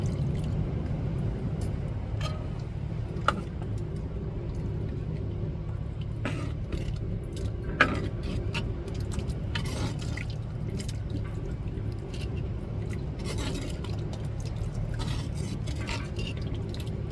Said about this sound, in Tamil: இப்போ நம்ம மசாலா தண்ணி சேர்த்துக்கிடுவோம்.